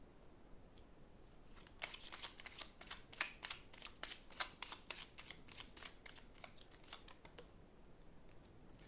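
Tarot cards are shuffled by hand in a quick series of crisp riffling flicks and snaps, close and fairly soft, starting after a quiet moment and easing off at the end.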